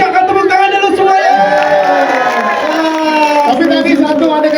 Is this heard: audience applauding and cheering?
yes